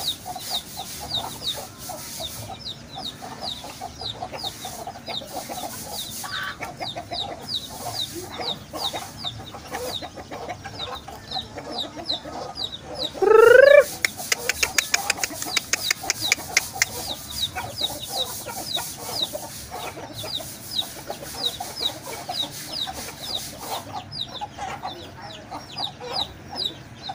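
Hens clucking steadily around a homemade rooster trap in a farmyard, with a louder burst of squawking partway through and other birds calling in the background.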